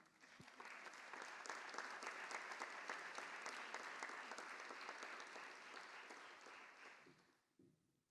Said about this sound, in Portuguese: Queria pedir uma salva de palmas para essa mulher